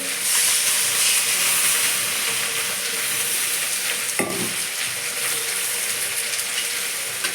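Water poured into a hot pan of bhola fish curry, a loud steady sizzle and steamy hiss with a sudden burst of bubbling as the water hits, then continued frying noise, with no talk.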